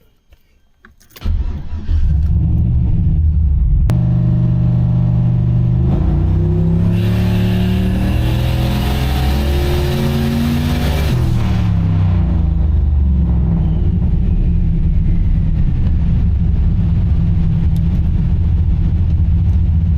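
A turbocharged Oldsmobile engine on a dyno, running a Holley Terminator X ECU, fires up with a sudden start, then climbs through a long, loud rising rev, peaks and eases back to a heavy, rumbling idle with no talk.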